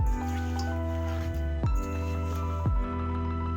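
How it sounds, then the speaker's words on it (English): Wet squishing and dripping as mixed berries are stirred with lemon juice for a cobbler, soft sticky squelches with a couple of sharper wet slaps amid a steady close-up texture. "Gently mix all the ingredients together until they're well incorporated."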